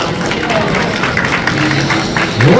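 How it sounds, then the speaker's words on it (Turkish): Audience applause at a children's magic and illusion show, a continuous wash of clapping hands mixed with crowd noise, steady and fairly loud throughout, with a faint voice near the end. "Alkışlarınızı duyar gibiyim"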